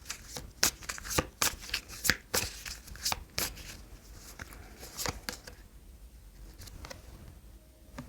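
Tarot cards shuffled and drawn by hand in a series of sharp, crisp riffles and flicks, loud and close for about six seconds, then only quiet handling noise.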